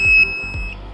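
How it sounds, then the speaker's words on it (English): A 5610 bidirectional automotive diagnostic scan tool emitting two short, high electronic beeps in quick succession, close and clear with a little low background noise. "And now it's beeping at me."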